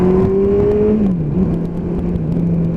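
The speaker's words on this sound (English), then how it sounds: "I know what Zed meant when he said that the ZZR engine develops a hell of a lot of torque." A Kawasaki GTR1400 motorcycle's torquey ZZR-derived engine drones loudly during a ride, its tone sliding lower and then holding steady under rushing wind noise.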